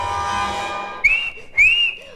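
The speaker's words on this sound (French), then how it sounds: "Dès qu'il eut sifflé, Jiminy apparut." On a French Pinocchio story record, a sustained musical chord fades into two clear, rising whistled notes, each bright and close, separated by a short pause.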